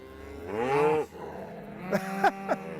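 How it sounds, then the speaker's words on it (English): Cattle in a field lowing, one long drawn-out moo close by followed by a few shorter, rougher calls a moment later. "So, what says the defense? Come, cattle!"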